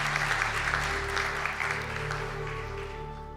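A hall audience at a graduation conferring ceremony claps for graduates of a construction contracts management degree, a dense, steady burst of applause that tapers slightly toward the end.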